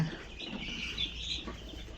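Young chickens cluck and cheep in a brooder during winter, a steady busy chorus of small calls over a low hum, close and moderately loud with no talking.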